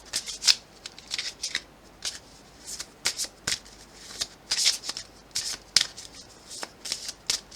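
Playing cards being shuffled and dealt at close range, a rapid series of sharp riffling bursts and flicks in an irregular rhythm, fairly quiet with no talk.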